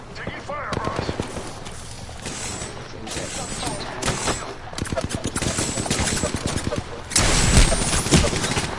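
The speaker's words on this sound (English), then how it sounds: "Oh, getting shot. Taking fire, Ross." Rapid automatic gunfire from a video game shooter rattles on throughout, getting heavier toward the end, with a player talking over the shots.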